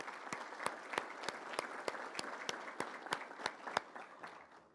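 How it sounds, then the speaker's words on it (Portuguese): Audience applauding a pastor at a municipal council ceremony in Campinas marking 500 years of the Protestant Reformation; steady, dense clapping from a room of people with sharp individual claps standing out, lasting throughout, no talk over it. "Uma salva de palmas ao pastor Eduardo Ribeiro."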